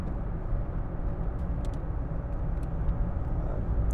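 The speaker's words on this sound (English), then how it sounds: "Great thing with diesels, lots of low end power. Just pull away." A 2007 Land Rover Freelander 2 TD4 diesel with a six-speed gearbox and all-terrain tyres pulling away, heard as a steady low engine drone and road rumble from inside the car, no talking.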